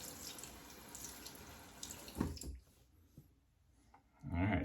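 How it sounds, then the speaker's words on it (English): Running tap water splashing over a hand at a bathroom sink during a wet shave, steady hiss that cuts off abruptly, followed by a few quiet drips and handling noises before the flow resumes. "Rinse my hand off a little bit."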